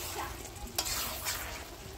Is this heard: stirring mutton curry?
yes